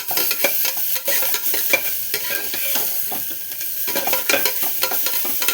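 A single chopped onion sautés in a pan over a low flame, with a soft steady sizzle broken by repeated scraping stirs of a spoon against the pan.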